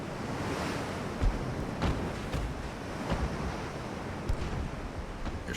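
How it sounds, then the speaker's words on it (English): In the naval game Ultimate Admiral: Dreadnoughts, a warship sinks as it takes on water, heard as a steady, loud wash of surf and rushing sea with a few dull thumps, and no talking. "Yeah, she's taking on water fast."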